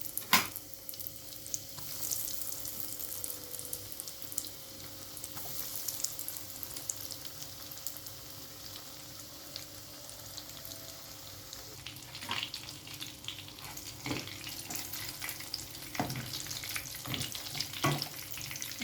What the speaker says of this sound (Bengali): বাকি মাছগুলো আমি এভাবে ভেজে নেব।